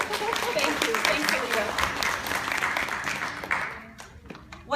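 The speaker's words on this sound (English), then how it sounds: "Everyone give a round of applause for Alita." Audience applause at a Montessori education conference, a dense steady wash of clapping that fades toward the end, with some voices mixed in beneath.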